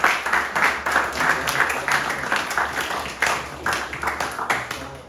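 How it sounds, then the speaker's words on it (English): An audience breaks into applause for a speaker's wife at a public event, a moderately close, sustained patter of many hands clapping that rises and falls in waves over the whole stretch. "She deserves a round of applause."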